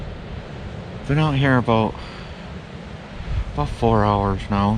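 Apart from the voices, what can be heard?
strong wind outdoors on North Manitou Island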